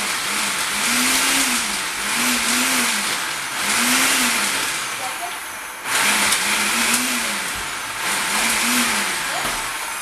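A food processor pulses energy ball ingredients in repeated short whirring bursts, about five rising-and-falling runs with brief gaps between, loud and close while someone talks.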